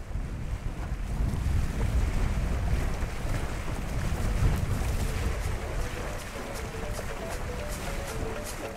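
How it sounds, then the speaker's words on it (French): Wind rises over the Niger River, giving a strong, steady roar of gusts buffeting the microphone, with water washing and sailing-boat noise beneath it throughout. "Mais soudain, le vent se lève."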